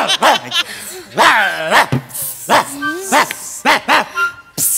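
A performer on a Marathi comedy stage imitates a dog with a run of loud, voiced barks and yips in quick bursts, close and clear.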